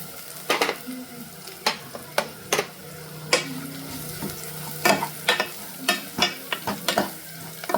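Onion, garlic, turmeric and grated coconut are stirred in a sizzling pan for tomato saaru, a spoon scraping and clinking in repeated sharp strokes over a steady close fry.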